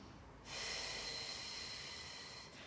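A long, steady breath pushed out through pursed lips during a beginner Pilates mat session, a close, airy hiss lasting about two seconds that starts abruptly and then fades, no voices.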